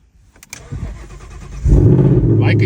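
A manual car's engine cranks briefly and catches on power from an Auxito jump starter, then settles into a loud, steady idle close by.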